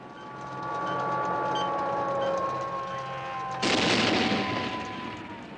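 Star Wars space battle in an attack on the Death Star: a steady hum of engines and tones, then a sudden loud burst of roaring blast noise near the end.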